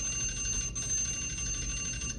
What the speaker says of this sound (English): Thank you, timer.